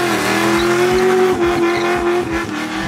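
A 1965 Ford Mustang widebody pro touring car drives past close by, its loud V8 holding a steady drone before rising and falling in revs with gear changes, no talk over it.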